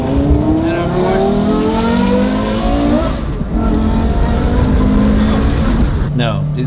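Porsche Carrera GT with a custom exhaust, its engine revving and accelerating loudly up close with a brief tire squeal, while people talk over the sound.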